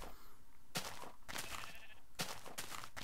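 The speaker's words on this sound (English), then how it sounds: "Sheep." Sheep in a Minecraft-style block game bleat in several loud, wavering calls spaced through the moment, clear against a faint game background.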